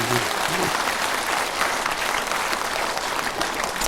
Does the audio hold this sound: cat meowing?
no